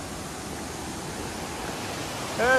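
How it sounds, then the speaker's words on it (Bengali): Steady broadband rush of the waterfall at Rock Garden, Darjeeling, water pouring over slippery rocks, continuous and fairly loud with no pauses, a brief tonal chirp near the end. "আর এই যে ঝর্ণার আওয়াজ মুগ্ধ করে তুলছে"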